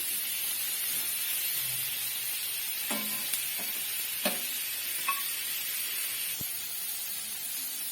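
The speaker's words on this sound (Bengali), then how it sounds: "একটু সামান্য লবণ দিয়ে দিচ্ছি, হালকা করে ভেজে নেব, বেশি ভাজবো না।" Chicken pieces fry lightly with a pinch of salt in a pan for chilli chicken, giving a quiet, steady sizzle with a few scattered clinks and taps of stirring.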